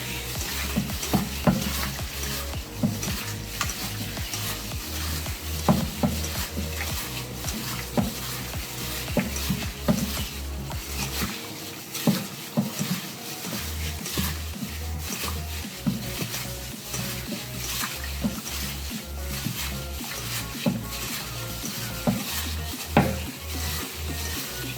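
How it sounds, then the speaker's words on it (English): Chicken pieces are worked by a gloved hand in a bowl with egg and Chinese spices and sauces, giving a steady wet squelching and stirring that runs continuously and fairly close throughout, with no talking. "Mix up that egg and all that stuff, all that delicious Chinese spices and sauces."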